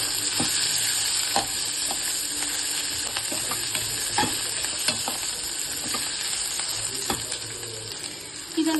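Mutton sambar masala stirred and fried in a pan, a steady close sizzle with scattered sharp scrapes and clinks of the spoon against the metal throughout.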